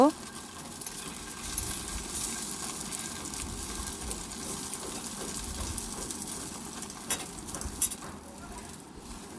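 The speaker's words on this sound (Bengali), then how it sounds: "খুন্তি দিয়ে এটা পিস পিস করে কেটে নেব। নিয়ে এপিট ওপিট করে ভালো করে ভেজে নেব।" Egg pieces fry in oil in a wok while a spatula turns them, giving a steady, low sizzle with occasional scraping taps.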